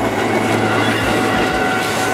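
A train rolling along the railway line that cuts through Pasar Anyar market, a loud, continuous close rumble with metallic wheel noise and faint rhythmic clatter throughout.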